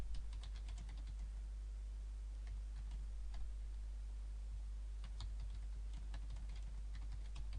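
Keys on a computer keyboard clack in quick, irregular bursts while entering text in a spreadsheet, faint and close against a quiet room hum, with brief pauses between runs of typing.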